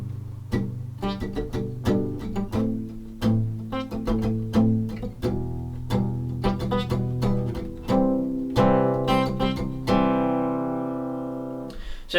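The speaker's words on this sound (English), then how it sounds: "So what we can do here is actually palm mute." Acoustic guitar strummed with a palm mute near the bridge in a steady strumming pattern, close and fairly quiet, opening into ringing chords near the end, with no voices.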